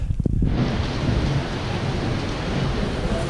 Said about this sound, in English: We have got another massive electrical storm right above our heads.